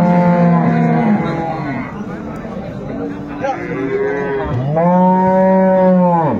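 At a cattle market at Ambari haat in Dinajpur, where dairy cows and calves are being sold, a cow gives loud, drawn-out moos close by, one early and a longer one near the end, with market chatter and voices underneath.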